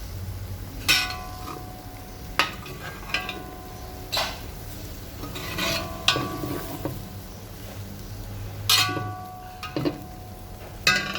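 A spoon stirs a palm heart achard with sea bream in a pot over very low heat, giving sparse clinks and taps against the pot at irregular intervals, close and quiet between strokes.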